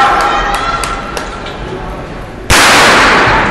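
Starting pistol fired to begin the men's fast-heat mile at a Columbia Last Chance track meet, one sharp loud crack cutting through the crowd hum and arena announcer chatter.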